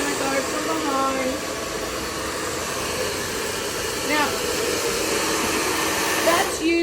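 A grooming dryer blows steadily on a dog's coat, a loud continuous airy roar with slight shifts as it moves, while a person talks over it.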